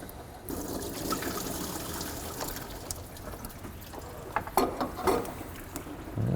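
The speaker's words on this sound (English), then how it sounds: "we can just let that drain for a minute" Coolant draining from a 2003 Nissan 2.5L engine during a water pump replacement, a steady close trickle and splash of liquid falling into a pan, with a few louder drips and gushes near the end.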